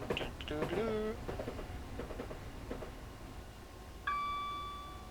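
A single bright DMR bell ding sounds aboard a class 377 train in Train Simulator 2020. It rings out clearly after a few seconds of cab rumble and fades slowly, with some talking in the earlier part.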